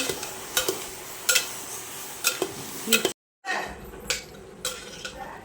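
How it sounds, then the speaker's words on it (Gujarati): A metal spoon scrapes and clinks against a pressure cooker while potatoes and tomatoes are stirred, with a soft sizzle underneath, rhythmic clanks at regular intervals, and a brief dropout midway. "તો ફ્રેન્ડ બટેકા અને ટામેટાને મિક્સ કરી લેશું"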